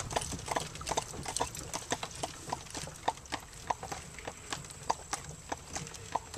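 Steady clip-clop of horse hooves pulling an Amish buggy along a road through farmland in an Amish valley, a regular walking rhythm of sharp hoof strikes over a low rolling rumble of wheels.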